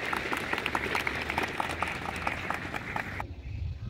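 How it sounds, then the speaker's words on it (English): School gathering at Don Bosco Academy in Lalitpur welcomes an inspector with a round of applause, quiet, somewhat distant clapping that thins out abruptly near the end. "We extend once again with a round of applause."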